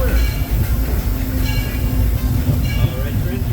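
Disneyland Railroad train, Holiday 5 Blue, rolling into New Orleans Square Station, a steady low rumble of wheels and carriage with faint clatter, continuous and fairly loud with a conductor's voice heard over it.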